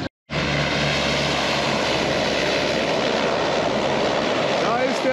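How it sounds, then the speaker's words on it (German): A small propeller plane arrives at an island airstrip on Manihiki in the Cook Islands, its engine drone loud, steady and continuous after a brief silent start. "Da ist der Flieger!"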